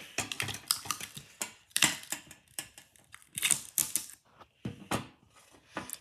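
Scissors cutting through a sticker sheet, a dense run of quick crisp snips and clicks that come in short uneven bursts, close and fairly quiet, with no voices.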